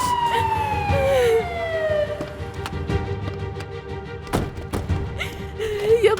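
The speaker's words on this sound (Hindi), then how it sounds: "एम्बुलेंस आ गई है, देखो जल्दी लेके चले।" An ambulance siren sounds on arrival, a loud wailing tone sweeping up and down over traffic rumble, with sharp knocks and bumps breaking in partway through.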